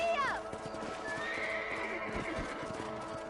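A horse in the Red Dead Redemption video game lets out a loud, close whinny at the start, then its hooves clip-clop steadily at a gallop, with game sounds and a voice mixed in.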